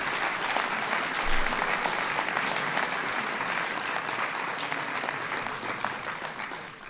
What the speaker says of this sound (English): So give Keegan a big round of applause